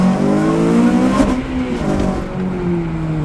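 Honda Civic FN2 Type R with a de-cat downpipe revving hard in first gear into VTEC, a loud close engine note that climbs, then eases back as the revs drop, with no talk.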